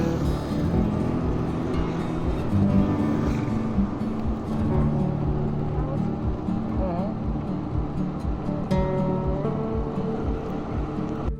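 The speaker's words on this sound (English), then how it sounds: "just the sound of the bike engine and the rustling leaves" Motorbike engine on a ride from Agonda to Cahudi in Goa, a steady droning rumble that runs continuously under rushing wind and faint rustling, close and constant.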